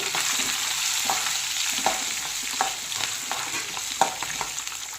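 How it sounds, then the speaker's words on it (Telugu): Mustard seeds, cumin, green and dried red chillies and curry leaves sizzle steadily in hot oil for a tempering for amla tamarind rice, with a constant crackling hiss and occasional louder pops and stirring scrapes, no voices. "ఇప్పుడు ఇందులో మనం ఆవాలు కొంచెం జీలకర్ర వేసుకుందాం కొంచెం పచ్చిమిరపకాయ ఎండుమిరపకాయ కరేపాకండి"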